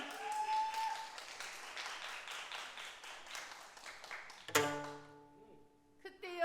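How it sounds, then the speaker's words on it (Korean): Audience applause fills a hall at a pansori performance during the World Pansori Festival, steady and dense for several seconds, then cut off by a sharp percussive strike followed by ringing tones. "여러분 큰 박수 부탁드립니다."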